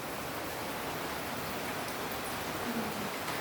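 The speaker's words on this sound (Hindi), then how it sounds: "बारिश आ गई" Steady rain pours down into an open home courtyard, a dense continuous hiss of drops hitting the ground with no voices.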